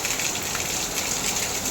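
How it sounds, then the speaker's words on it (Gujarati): Heavy monsoon rain pours steadily in Surat, a dense, even hiss of falling water without a break. "આજે જો પણ વરસાદ આવી ગયો છે"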